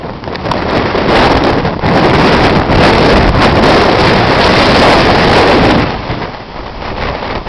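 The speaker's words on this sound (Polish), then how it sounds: "Woda się wdarła na pole namiotowe tak wyraźnie fale się wdzierają." Storm wind roars and buffets the microphone while waves surge onto a flooded lakeside tent campsite at Piaski, a loud continuous rush that eases slightly near the end.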